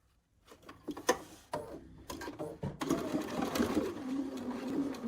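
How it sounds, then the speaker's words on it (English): A domestic sewing machine stitches a quilt block seam nearby, starting with a few clicks and short bursts before settling into a continuous whirring run, with light handling noise and no talking. "I'm going to sew up this side now"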